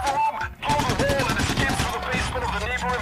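Gunfire in the video game PAYDAY The Heist, during the First World Bank heist: dense, rapid shots crackling over game noise, with a voice talking over much of the action.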